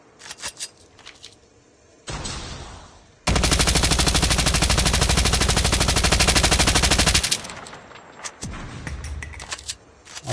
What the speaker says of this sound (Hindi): मैं फायरिंग कर रहा हूँ